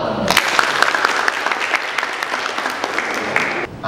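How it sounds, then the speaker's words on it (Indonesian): An audience at a midwifery students' community study gathering breaks into brisk, loud applause, a dense patter of many hands sustained for several seconds and cutting off abruptly. "Ini tepuk tangan."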